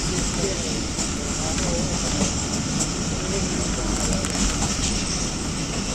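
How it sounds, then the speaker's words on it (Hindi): The 40 Down Jaffar Express passenger train rolls through Shadrabad Junction with a dense, steady rumble and rattle heard close from on board, and someone talks over the noise. "शादराबाद जंक्शन ये कर रही है 40 डाउन जाफर एक्सप्रेस"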